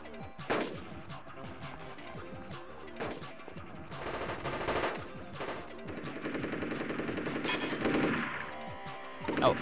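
Rapid gunfire and heavy bursts fill a PlayStation 2 game of V.I.P., loud close shots and machine-gun rattles interspersed with crashes and explosive thuds, continuing without pause.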